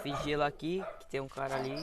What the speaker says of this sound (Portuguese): desculpa o latido dos cachorros